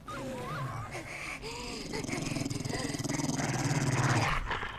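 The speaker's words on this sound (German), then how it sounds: "Da kommt noch ein Hund." A dog growls in the zombie survival video game 7 Days To Die, a low rumbling snarl that builds and pulses over ambient game sound, with people talking over it.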